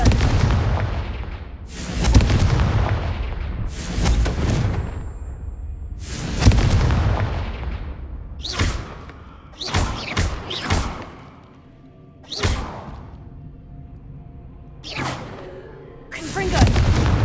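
Repeated Confringo fire-spell blasts in Hogwarts Legacy during a haunted Hogsmeade quest, with about eight loud booming explosions arriving at irregular intervals, some in quick pairs, each ending in a short rumbling tail.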